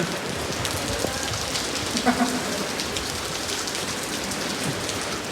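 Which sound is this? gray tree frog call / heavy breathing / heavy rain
heavy rain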